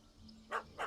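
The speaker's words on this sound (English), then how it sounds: "Don't know how to handle yappy little dogs?" Yappy little dog in The Witcher 3 gives two quick, sharp barks in close succession, faint and alone over a quiet background.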